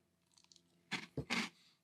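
Close crunching bites of Cap'n Crunch Sea Berry Crunch cereal, a few faint rustles and then three loud crisp chewing crunches in quick succession, no speech.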